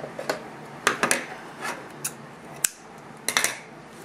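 Paper being cut with scissors while a birthday card is made, giving a series of sharp snips and short crisp slicing sounds at close range, with no talk.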